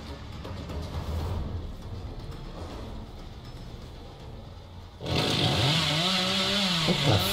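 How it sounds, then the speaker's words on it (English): A chainsaw in the horror video game Dead by Daylight revs up suddenly after a stretch of rumbling game ambience, loud and close with a wavering, whining motor tone to the end. "I hate that chainsaw."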